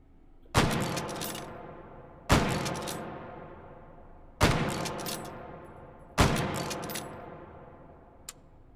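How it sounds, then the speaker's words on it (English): A .45-70 rifle in the VR game Hot Dogs, Horseshoes & Hand Grenades fires four loud, evenly spaced single shots, each a sharp boom with a long decaying echo, followed by a faint click. "Let me just fire off a shot here."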